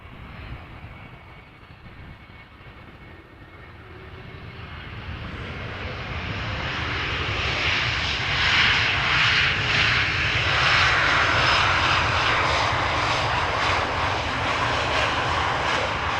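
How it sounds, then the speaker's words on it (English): A KLM Embraer E2 195 airliner arriving at Amsterdam Schiphol from Zurich, its engine roar swelling from a distant rumble to a loud, steady overhead drone. "an E2 Embraer 195 from KLM arriving from Zurich"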